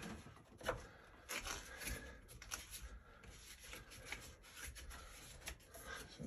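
Freshly cut pipe end deburred by hand, a faint, close scraping and rubbing in short irregular strokes with small clicks, quiet throughout with no talking.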